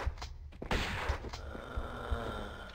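Pistol shots in Tomb Raider I Remastered, several thudding single shots spaced roughly evenly over a short stretch, with a steady ringing game tone carrying underneath.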